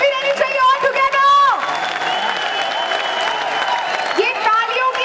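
A large hall audience at a company event claps and cheers loudly for an arriving CEO, whoops and shouts mixed in, while an announcer's amplified voice and music carry over the crowd.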